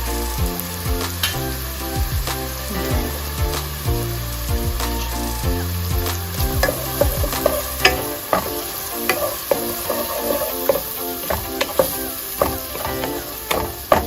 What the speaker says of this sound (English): now I will allow my curry to cook for about 2 to 3 minutes